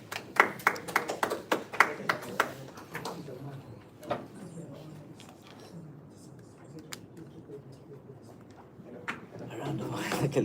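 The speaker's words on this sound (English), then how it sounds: "Let's have a round of applause." An audience gives a round of applause in a short burst of sharp, fairly close claps that soon scatters into a few isolated claps and room noise, with a voice heard partway through.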